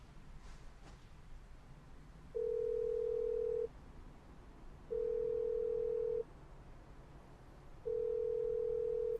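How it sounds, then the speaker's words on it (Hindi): Unanswered phone call: a steady ringback tone sounds three times in long even pulses separated by short quiet gaps, clear over faint background hiss. "फोन नहीं उठाया, फिर से करती हूँ।"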